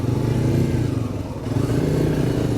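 A motorcycle rides off-road on rough ground near Bangalore, its engine droning loudly and steadily up close with a slight dip and rise in pitch and some rattling.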